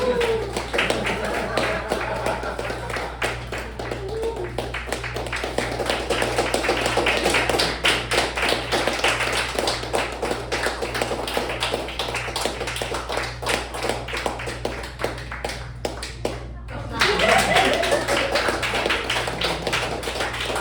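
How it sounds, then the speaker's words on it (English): Steady applause from a comedy club audience at a brewery, dense and sustained for about twenty seconds, with a brief lull near the end before it swells again, with a few voices and whoops mixed in. "You can start applauding."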